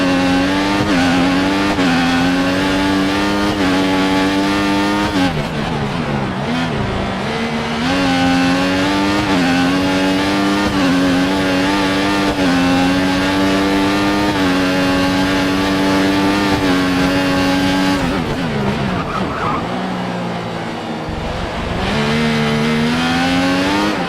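Caterham Renault Formula 1 car with a 1.6 litre turbocharged hybrid engine in the F1 2014 racing game, a loud, continuous high-pitched engine whine rising and falling through gear changes, with brief dips while lifting off.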